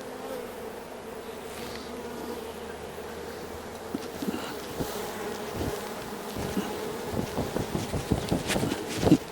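Honey bees buzz steadily around a honey-bound hive outdoors in the bush, a dense continuous drone with wind noise and occasional knocks and handling thumps growing louder toward the end.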